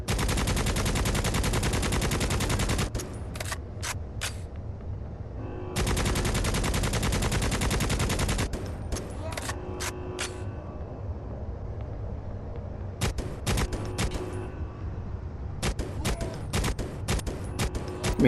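Sustained automatic rifle fire from the video game Necromunda: Hired Gun, loud bursts of rapid shots in several long strings with short pauses and scattered single cracks between them.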